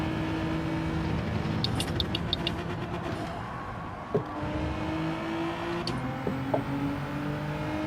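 A Porsche race car engine drones close behind in Gran Turismo 7, a steady whirring motor hum held throughout with a few brief ticks and small bumps.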